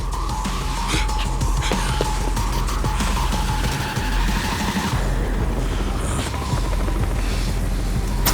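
Helicopter engine in the video game Yakuza: Like a Dragon, a steady loud rotor and engine drone running throughout with bursts of game effects and music layered over it.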